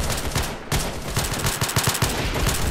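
Rapid bursts of Roblox gunfire, shots cracking in quick irregular volleys that keep going with barely a pause throughout.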